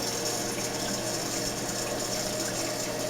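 A newly installed toilet refills with water after flushing, a steady loud rushing and hiss from the tank that carries on unbroken without any talk.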